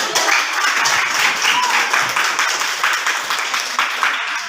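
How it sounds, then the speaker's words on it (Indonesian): A classroom full of people claps steadily for several seconds after a group presentation, a dense, even patter of many hands that stays loud throughout. "Oke, kita kasih tepuk tangan."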